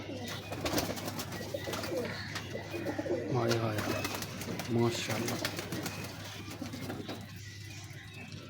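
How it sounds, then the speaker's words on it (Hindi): An original Ferozpuri pigeon coos a couple of times, soft low calls close by, while people talk over them amid light background patter. "बड़ा लाजवाब कबूतर है ये।"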